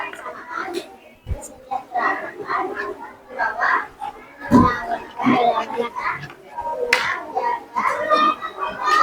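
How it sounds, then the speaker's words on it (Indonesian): Children in a classroom clap their hands briefly for a classmate, scattered claps mixed with children's chatter and a teacher's voice talking over them. "Iya, tepuk tangan untuk Gemma."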